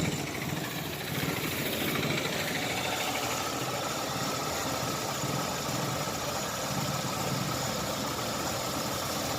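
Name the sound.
Chevrolet Optra engine running rough, misfiring and knocking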